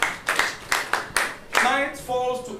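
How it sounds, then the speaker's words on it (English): A few people in a classroom clap for a student: five or six sharp separate claps in a slow rhythm, then a voice speaks near the end. "Clap for him."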